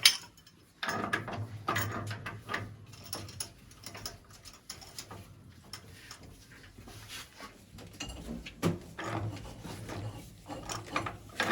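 A wrench ratchets and clicks in uneven bursts while tightening a gas valve fitting on a Burnham Independence gas steam boiler, with faint metallic knocks between turns.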